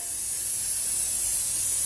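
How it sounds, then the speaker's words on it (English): A cold cosmetic mist sprayed onto a face, one continuous soft hiss lasting a couple of seconds, close and quiet with no voices. "So, I'm gonna spray it on my face now for that sweaty luster."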